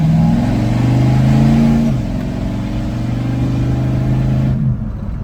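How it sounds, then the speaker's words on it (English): A Willys being driven just after a tune-up, its engine revving at mid pitch and loud throughout, with the tone dropping as it shifts around two seconds in and easing off near the end. "Alright, we got Ashley driving now."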